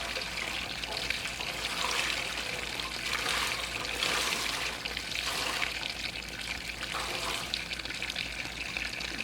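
Tap water runs steadily while ammonia-cleaned wool is rinsed, a continuous splashing rush at close range with no talking.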